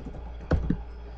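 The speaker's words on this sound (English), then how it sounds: "To get out of your top, you'll hit Control Z, CTRL plus Z on your keyboard." Two quick, close key presses on a computer keyboard as Ctrl+Z is entered, a soft pair of clicks in an otherwise quiet room.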